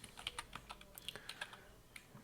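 Quick, light keystrokes on a computer keyboard, a short burst of close typing at low volume in a quiet room.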